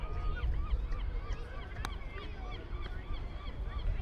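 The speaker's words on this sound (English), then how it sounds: "You can hear the seagulls and birds out in full force." Seagulls and other birds call repeatedly at a baseball game a short distance from Hyannis Harbor, their squawks and honks faint over a steady outdoor wash.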